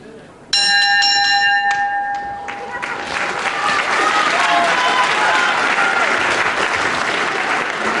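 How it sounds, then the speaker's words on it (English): A wrestling ring bell rings once, loud and close, to start round one of a British title bout, its tone lingering as crowd applause and cheering swell and continue. "Right on the bell, round 1."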